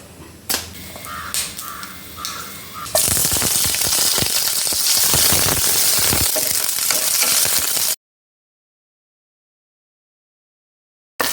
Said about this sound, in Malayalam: ഇനി നമുക്ക് ഇതിനുള്ള കടുക് താളിക്കാം.